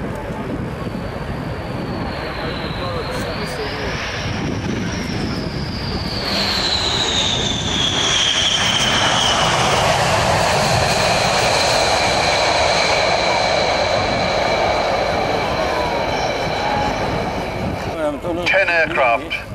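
A B-1 bomber flies past at the RIAT air show at RAF Fairford, a loud, sustained jet roar with a sweeping whine that swells and fades, while a commentator talks over it.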